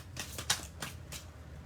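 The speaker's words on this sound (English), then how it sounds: "Okay, these I want to shuffle." Oracle cards from a Wild Offerings deck being shuffled by hand, giving a handful of short, crisp riffling bursts close to the mic, with gaps of near-quiet between them and no talking.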